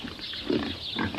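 Pigs of about 200 pounds in a farm pen, grunting and shuffling close by in a short noisy stretch with no clear voice over them.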